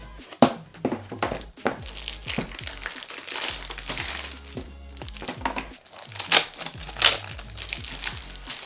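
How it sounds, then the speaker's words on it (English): Crinkling and shuffling of sublimation paper sheets being loaded into a printer, with soft thunks and clicks, handled close by in uneven bursts, with faint background hum. "let's go ahead and load our sublimation paper into our printer"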